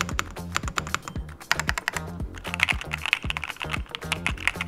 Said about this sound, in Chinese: 它本身轴体是烈焰红轴2代， 大家可以听听声音。